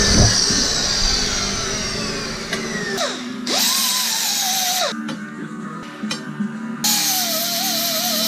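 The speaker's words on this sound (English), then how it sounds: "So basically what I'm doing is hole sawing pieces of metal, plate out of metal" A hole saw cuts through metal plate while making radiator mounts, giving a loud, continuous grinding whine whose pitch rises and falls with the load, broken by short pauses and restarts.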